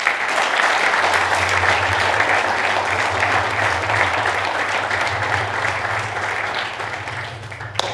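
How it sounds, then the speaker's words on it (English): Conference audience at NetDevOps Days London applauds a guest speaker, steady dense clapping held for several seconds over a low hum, tapering slightly at the end. "Let's have a massive round of applause for Mr."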